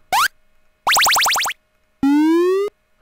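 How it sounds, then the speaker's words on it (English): Three separate synthetic chirps from a retro-style sound effect generator play in sequence: a quick rising blip, then a stepped run of rising sweeps, then a longer upward glide. Each is clean, bright and loud against silence. "Power up button."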